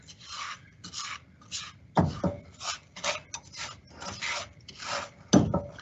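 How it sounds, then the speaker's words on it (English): Sugar that is starting to solidify is stirred in a pan while making lumpiang sariwa, giving repeated gritty scraping strokes close by with a few sharper knocks against the pan. "the sugar is starting to solidify right now. Gotta keep stirring."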